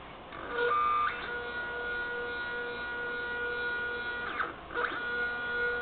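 Homemade CNC machine testing a newly fitted fourth rotary axis driven by the X motor, giving a steady, smooth electronic stepper whine with tonal hums and a few brief sweeping pitch changes.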